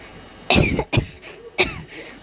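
Three short, sharp coughs in quick succession, close and fairly loud, with a brief gap before the last.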